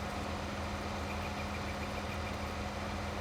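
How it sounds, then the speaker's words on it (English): Steady, continuous engine drone from a John Deere 9470 RX tractor pulling a John Deere 2410 field cultivator in Farming Simulator 19, a low idling rumble with a faint whine, unbroken and alone for the whole stretch. "I'm running the John Deere 9470 RX here with the John Deere 2410 field cultivator"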